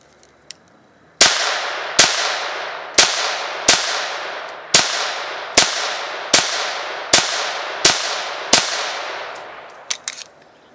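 Ruger MK III pistol fired at a shooting range: ten sharp, loud shots in a steady rhythm about one per second, each with a short ringing decay, then a few small handling clicks, no talking.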